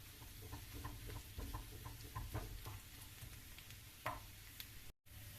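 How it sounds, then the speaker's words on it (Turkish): Tomato paste sautéing in a pan, giving a low steady sizzle with scattered soft crackles and pops and a few stirring scrapes, close and alone with no talk. "Evet salçamız güzelce kavruldu."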